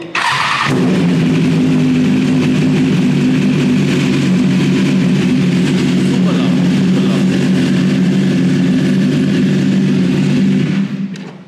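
A superbike engine starts with a sharp burst and settles into a loud, close, throbbing idle that holds steady for several seconds before cutting off.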